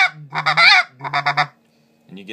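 A Basin Calls White Devil snow goose call blown by a person, making a near, loud run of nasal goose honks in short bursts, then a pause and another honk, imitating snow geese.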